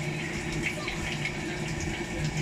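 Water gushes steadily through the drain of an LG automatic washing machine as it is flushed out to clear clogging dirt, a continuous close rushing flow with a low pump-like hum underneath.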